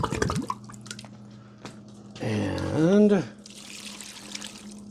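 Water is poured into a seedling tray of tomato and pepper starts, a short trickling splash close by that grows louder for about a second before stopping, with someone talking before and after.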